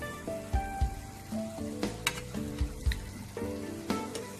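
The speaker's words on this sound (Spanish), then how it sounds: "tenemos que mezclar el brócoli con la cebolla, pero despacito, con cuidadito, para que no se nos rompa" Broccoli and onion sautéing for a Serrano ham broccoli dish, gentle sizzling punctuated by slow spatula scrapes and knocks against the pan, close and fairly quiet, with a faint tonal ringing in the background and no speech.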